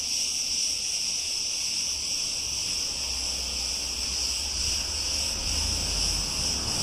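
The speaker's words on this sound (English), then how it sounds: "You get used to that noise with them insects up in trees." A steady, loud, high-pitched drone of insects buzzing in trees in Greece on a 32-degree day, continuous and unbroken throughout, with faint low rumble beneath.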